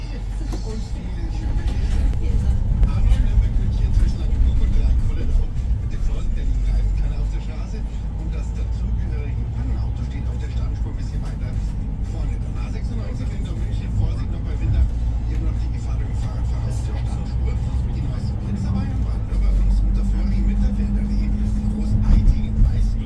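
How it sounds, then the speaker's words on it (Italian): Continuous road traffic with cars rumbling past nearby, a steady low engine drone throughout, and people talking over it. "qua c'è traffico."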